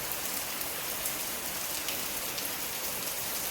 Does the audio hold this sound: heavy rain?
yes